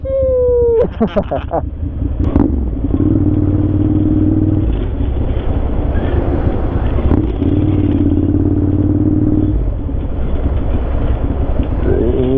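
Loud rushing wind roars against the microphone over a rumbling Ducati motorcycle engine while riding with the visor open, steady and close, with a brief voice near the start.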